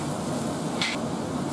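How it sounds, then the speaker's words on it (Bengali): Chopped onion fries in hot oil, giving a steady, even sizzle that stays constant for the brief moment, with a faint brighter crackle partway through. "এবার এই তেলে ভেজে নেব"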